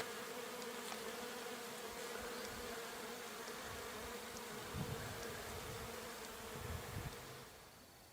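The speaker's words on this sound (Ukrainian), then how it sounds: "Як бджоли гудуть на свиріпі?" Steady buzzing of bees on flowering rapeseed hums continuously at moderate level, with a few faint bumps of nearby movement near the end.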